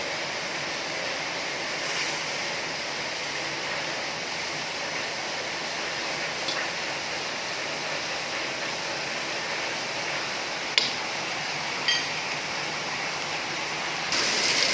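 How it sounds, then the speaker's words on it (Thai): Heavy rain that has been pouring since the night before, heard at home as a steady, dense hiss throughout, broken only by a few faint knocks and drips. "ฝนตกนะ ลูกเพื่อนเพื่อน ตกแรงด้วยนี่ตกตั้งแต่เมื่อคืนแล้ว"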